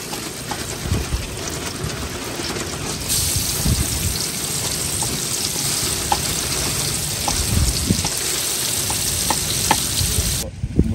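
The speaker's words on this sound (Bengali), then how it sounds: "এখন আমাদের তেল গরম হয়ে গেছে, আমরা এখন মাছটা ছেড়ে দেবো।" Fish sizzles steadily in hot oil during village cooking, a dense, constant crackle with scattered pops and occasional stirring clinks, close and loud throughout.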